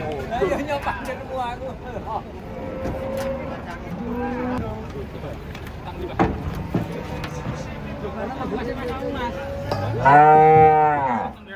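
Large cattle being unloaded from a truck at Jelok market, with repeated loud mooing and a long drawn-out bellow near the end, over crowd babble and people talking nearby.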